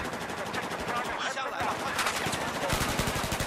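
Rapid automatic gunfire in a competitive multiplayer shooter, dense bursts of close shots crackling almost continuously, with a short lull mid-way before the firing resumes louder.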